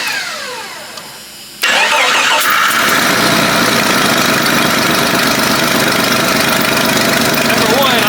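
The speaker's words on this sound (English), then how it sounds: "I'm gonna fire it up. It's got a bad exhaust leak" A Jeep 4.0L inline-six cranks briefly, then catches and runs loudly and steadily, with a rough, ticking rasp from a bad exhaust leak over the idle, close up.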